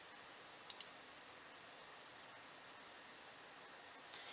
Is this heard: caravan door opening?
no